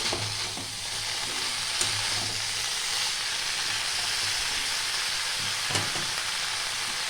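Bottle gourd stems frying in a pan for a prawn and mixed vegetable curry, giving a soft, steady sizzle with occasional light scrapes and knocks of stirring, close and fairly quiet throughout.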